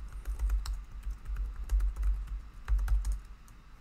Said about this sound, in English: And I'll enter my username and password.